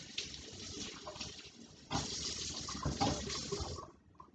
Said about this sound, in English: So I'm gonna throw it out and I'm gonna wash my hands.